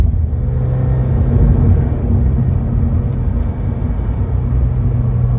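A Subaru BRZ tS engine drones loudly from inside the cabin with a deep, steady rumble and no clear rev blip, heard while downshifting into a turn.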